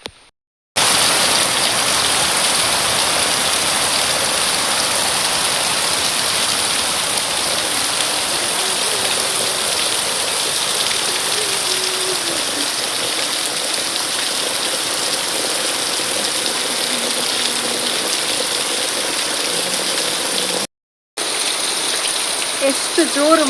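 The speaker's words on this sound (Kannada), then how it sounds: "ಎಷ್ಟು ಜೋರು ಮಳೆ ಬರ್ತಾ ಉಂಟು ನೋಡಿ ಅಂತೆ." Heavy rain pours in a village at the start of the monsoon season, a loud, steady, dense hiss of falling water that continues unbroken apart from a brief dropout near the end.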